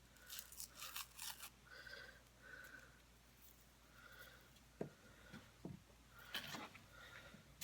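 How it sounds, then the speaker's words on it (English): Scissors snip through green cardstock in a handful of short, crisp cuts, quiet and close, with faint rustling of paper between cuts. "I'm going to cut 3 of this green one"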